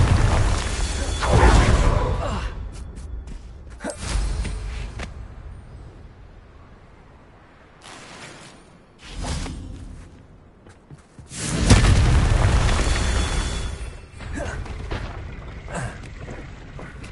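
Confringo spells explode in the Hogwarts Legacy video game, several loud booming blasts with whooshing bursts arriving at irregular intervals, the strongest near the start and around two-thirds through, quieter ambience between.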